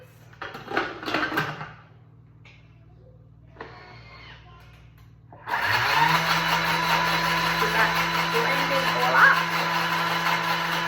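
After a few brief bursts of talk, a blender starts up and runs loudly and steadily with a constant motor drone, mixing vegan butter with apple cider vinegar.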